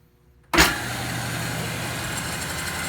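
A 2 horsepower table saw motor starts with a sudden thump after a brief quiet moment, then settles into a steady, loud, even hum close by.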